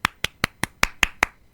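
Seven sharp, evenly spaced hand claps ring out close and alone, one every fifth of a second, as one person applauds a committee at an Asturian centre event.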